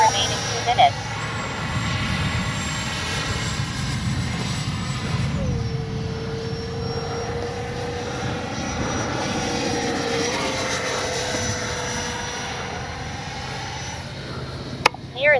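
A Freewing F-35 RC model jet in flight on its maiden sortie, heard as a steady, fairly loud engine whine with a shifting pitch that runs continuously, accompanied by broadband noise and a sharp click near the end.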